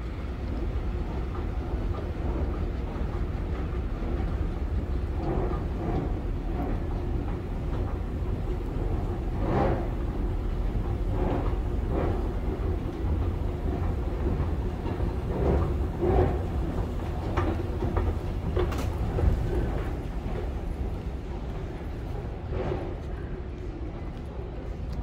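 Metro train at Sabiha Gökçen airport station in Istanbul, a steady low rumble and rattle of rolling carriages with repeated rail clacks, sustained throughout.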